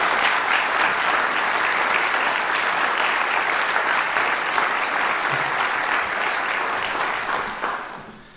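Sustained applause from an audience at a fundraising milestone event in Toronto greets a speaker, steady and full for about seven seconds before tapering off at the end.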